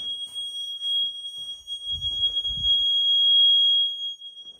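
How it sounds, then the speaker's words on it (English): A steady, piercing electronic low-fuel warning tone from a backup generator at a high school during a power outage sounds continuously throughout, with a few soft low thumps and rustles nearby. "the beeping is from our low fuel."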